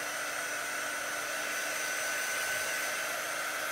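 A hair dryer blows steadily on a chalk-painted sign, a continuous close, loud whoosh with a whining hum that holds for the whole stretch with no voices.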